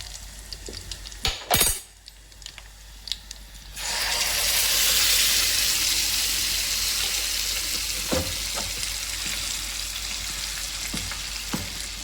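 Homemade tomato chutney with green chillies is poured into a hot tempering, setting off a loud, sustained sizzle that follows a few clanks of utensils and stays steady to the end, with occasional light taps.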